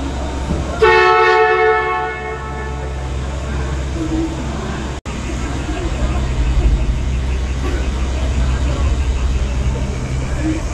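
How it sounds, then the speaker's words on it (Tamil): A mountain train's horn blows once near the start in Vietnam's Ba Na Hills, followed by a steady, loud low rumble of the train running continuously as it climbs. "ட்ரெயின் ஸ்டார்ட்டாக போகுது."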